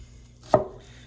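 A single knife stroke chops an onion on a cutting board, one sharp close thud in an otherwise quiet moment.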